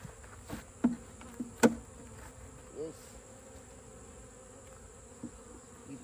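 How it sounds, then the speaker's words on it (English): Bees buzzing faintly during a hive transfer into a 10-frame box, a low steady drone with a few brief louder passes of individual bees close by, plus soft knocks from handling. "Slowly transfer these bees in here."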